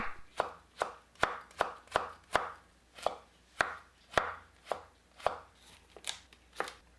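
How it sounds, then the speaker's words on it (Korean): A knife julienning carrot into thin strips, about fifteen sharp, evenly spaced chops on a cutting board, close and clear with no talking. "당근을 얇게 채 썰어주세요"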